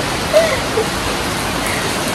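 Sudden rain falls steadily, a continuous even hiss of drops with no voices over it.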